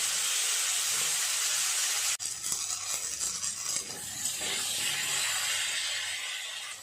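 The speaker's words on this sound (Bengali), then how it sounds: "আলুগুলো আগে ভালো করে লাল লাল করে ভেজে নেব" Potatoes sizzle and hiss steadily as they fry in hot oil close by, with occasional light scrapes and clinks of a utensil, no voices.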